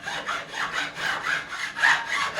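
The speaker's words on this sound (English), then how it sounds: "I have gone as close as I can get just using this flat coarse file." A flat coarse file works the fret ends on a Fender Strat neck during a refret, making steady rhythmic rasping strokes, close and even, with no voices.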